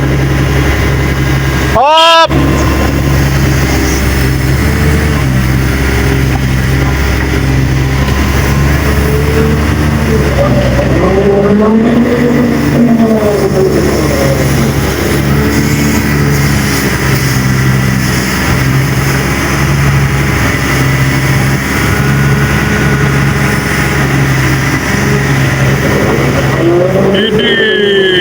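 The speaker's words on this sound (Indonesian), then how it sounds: "Itu truk barunya tuh ya, yang baru datang." A newly arrived truck idles and creeps forward beside a heavily polluted river, its steady low engine drone running throughout under nearby voices, with a brief louder burst near the start.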